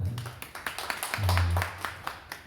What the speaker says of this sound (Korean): 다시 한번 박수 한번 칠까요?